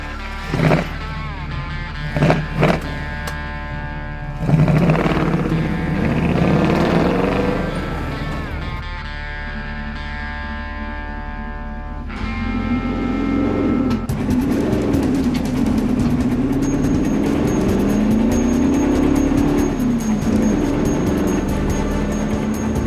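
A Ford Bronco accelerates hard from a standstill, its engine revving up through rising strained tones with a shift partway through, heard from inside with a few short knocks at the start.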